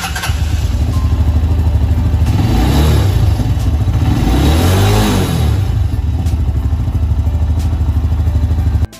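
A motorcycle engine runs close by in a steady, loud idle, then revs up and falls back once near the middle before settling into the same chugging idle.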